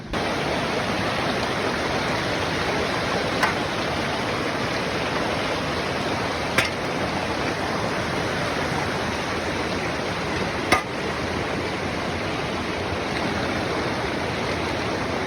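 Creek water at Bertha Creek rushes and splashes steadily over rocks, a constant broadband roar close by with a few faint clicks, no voices.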